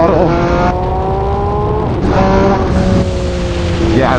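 A 2020 MV Agusta Brutale 800RC motorcycle engine revs hard under throttle, with rising harmonic tones that climb, dip at gear changes, and climb again. The engine note is loud, close and continuous, with road and wind roar underneath.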